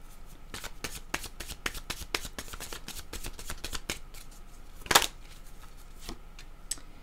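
A deck of oracle cards being shuffled by hand, giving a quiet run of quick, close flicking riffles with one sharper snap partway through.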